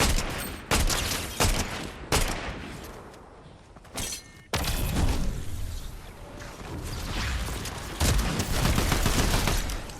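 Rifle fire from a DMR in a Fortnite Zero Build match, with loud bursts of shots and sharp cracks in a fast, irregular rhythm, mixed with other battle noise and impacts.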